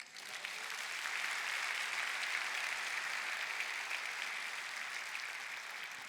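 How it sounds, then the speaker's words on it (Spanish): A church congregation at a Palm Sunday service applauds steadily, a broad wash of distant clapping that swells quickly and holds evenly throughout. "Un aplauso a Cristo"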